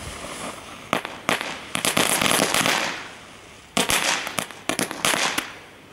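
Category 1 firecrackers bought at Kik going off outdoors, a run of sharp crackling pops in dense bursts, then a short lull and a second clustered volley, loud and close with no talking.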